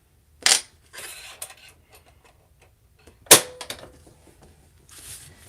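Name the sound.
changing sewing machine presser foot to zipper foot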